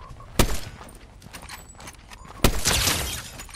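Two sharp gunshots in a Fortnite duo battle royale match, each loud and close, about two seconds apart, over a background of in-game ambience and movement.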